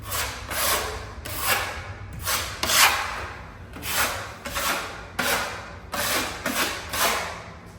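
A trowel spreads drywall mud into a recessed hole in a wall, repeated scraping strokes about once a second, close and rhythmic, with no talking.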